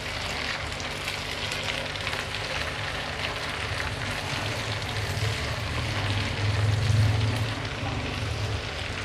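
Finely chopped tomatoes fry in a pan with garlic and ginger for a besan khageena, giving a steady, close, crackling sizzle that swells briefly louder partway through, with no talking.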